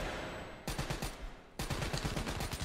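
Rapid automatic gunfire from Call of Duty Black Ops 3, loud and close, in two dense bursts separated by a short lull, with no talk over it.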